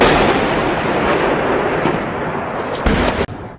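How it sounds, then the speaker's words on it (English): Mortar bombs and tank shells exploding in Syria: a loud, continuous rumbling roar of blasts and booms that swells and fades, ending with a few sharper cracks, with no talk. "Every 1 minute, a tank shell or a mortar bomb lands in there"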